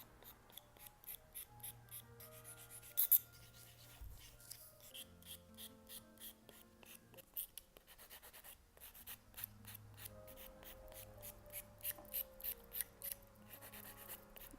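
Steady scratchy rasping of a file worked back and forth over an acrylic nail surface, close and quiet, in repeated short strokes.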